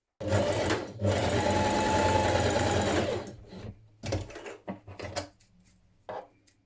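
A sewing machine stitches coat seams with a steady, loud motor whir for about three seconds, then stops; short bursts of handling, clicks and fabric movement follow.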